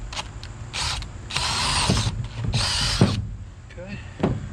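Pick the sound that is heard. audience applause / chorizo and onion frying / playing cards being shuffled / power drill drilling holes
power drill drilling holes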